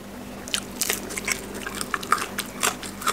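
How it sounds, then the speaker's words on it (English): Close-up crunchy bites and chewing of fried sausage, a series of sharp crisp crunches in irregular rhythm, with no talking. "Good crunch on that sausage"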